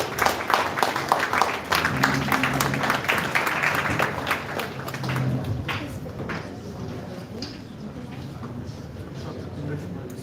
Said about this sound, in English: Ladies and gentlemen, give them a big round of applause.